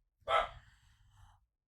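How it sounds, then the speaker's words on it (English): Indoors, a dog lets out one sharp, close bark at an unused vacuum cleaner, followed by a softer trailing huff of breath. "He's barking at the vacuum that I'm not using."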